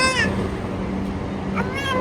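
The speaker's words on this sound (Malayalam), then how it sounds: "പൂച്ചനെ പേടിപ്പിക്കണ്ട. പേടിപ്പിച്ച പോയില്ല." A house cat meows twice at close range, one short call near the start and another near the end, over steady room noise.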